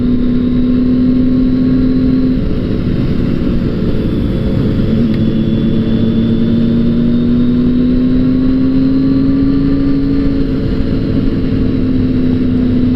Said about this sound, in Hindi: अब वैसे ही जैसे ये जिक्सर 1000 चल रहा है, आगे CBR 600 चल रहा है